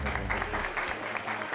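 Several hands clap in a quick, even rhythm, close and moderately loud, for a brief burst with no talk over it.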